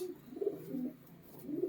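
White-headed Madras pigeons of the Dobaz line coo in soft, rolling bursts, with a low throaty call repeating in two or three close phrases from nearby.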